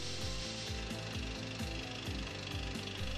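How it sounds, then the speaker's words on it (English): A wood-turning skew chisel is sharpened against a guide on a Robert Sorby sharpening system, giving a steady close grinding whir with regular pulsing beats. "Push the tool in to sharpen one side."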